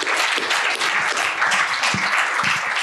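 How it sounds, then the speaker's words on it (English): An audience at a startup capital summit session in Michigan applauds with dense, steady clapping that stays loud and even throughout, without speech over it. "Clapping's welcome."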